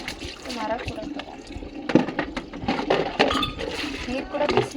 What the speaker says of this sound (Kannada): ಪಾತ್ರೆ ಕೂಡ ತೊಳ್ಕೊಂಡು